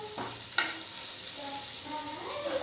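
Garlic fries in a small amount of oil for egg 65, a soft continuous sizzle with a few stirring scrapes and clinks, close and fairly quiet.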